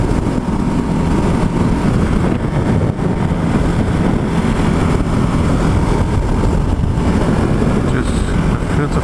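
A Ducati Hypermotard motorcycle on a ride, its engine a steady low drone heavily buried under loud, constant wind rush on the microphone.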